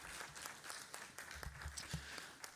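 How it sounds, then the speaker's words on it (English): Applause at a city council meeting: a short burst of clapping from a crowd, steady and moderately loud, lasting a couple of seconds. "If we can give our team a round of applause"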